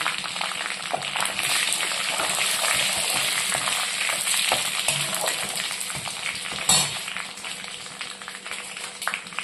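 Panch phoron whole spices frying in hot oil for a vegetable khichdi, a steady dense sizzle and crackle running close and loud throughout with a few sharper pops, no talking.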